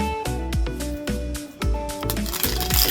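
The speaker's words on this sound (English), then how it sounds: "I'm just shuffling your cards now" Tarot cards are shuffled by hand in a quick run of sharp riffling and slapping bursts, roughly every half second, close and fairly loud, with no talk.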